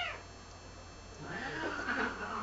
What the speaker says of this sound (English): that was my cats then, fighting as usual